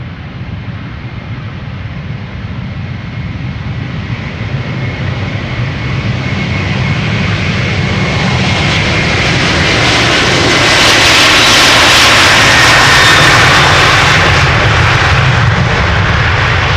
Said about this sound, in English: This is KLM flight 661 to Houston, Texas. A330-200, the PH AOE.